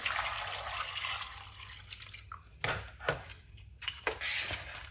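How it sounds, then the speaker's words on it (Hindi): Water pouring and splashing into a vessel of apricots, followed by a few drips and light clinks, fairly quiet. "बीच में पानी डाल देंगे"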